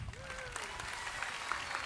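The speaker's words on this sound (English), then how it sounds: "Another round for applause." Faint, distant applause fills a commencement ceremony hall, a soft, steady rustle of many hands clapping for a couple of seconds with a brief voice-like tone near the start.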